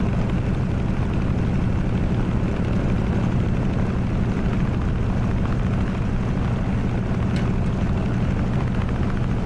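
A warbird's piston engine drones steadily on final approach to land at Goodwood, a loud, continuous, rumbling roar heard from inside the aircraft, with no breaks.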